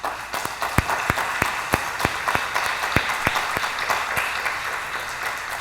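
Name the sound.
church congregation applause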